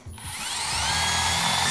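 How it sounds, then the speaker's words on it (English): A power drill spins up and bites into aluminium, its motor whine rising to a strained, steady high pitch with a grinding, chattering undertone; close and loud, alone without speech. "the aluminium did not like that I wanted to put the drill through it"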